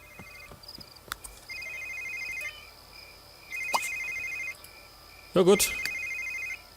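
Electronic phone rings in The Sims 3 sound in short repeated bursts, the loudest near the end, over quiet game ambience, with someone speaking briefly.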